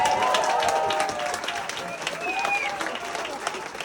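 A crowd applauds and cheers loudly and steadily at the end of a stand-up comedy set, dense clapping filling the room while a voice talks over it.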